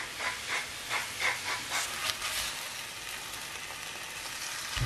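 Tuna frying in oil in a pan gives a steady close hiss and sizzle, with soft rhythmic bursts during the first two seconds, then an even crackle.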